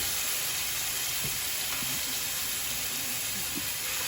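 Minced garlic sautéing in a hot pan, a steady close sizzle and hiss running evenly throughout with faint low bumps underneath, no talking.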